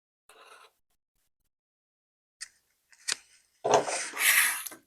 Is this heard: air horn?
no